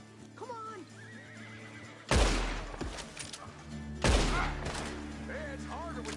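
Two loud gunshots ring out about two seconds apart in Red Dead Redemption 2 as a lock is shot. Each has a heavy low thump that fades off, with horses whinnying before, between and after the shots.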